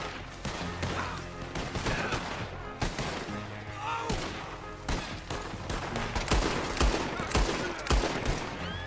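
Dense, continuous gunfire fills a Red Dead Redemption 2 shootout, overlapping shots from several weapons cracking without pause, with faint voices and game sounds mixed underneath.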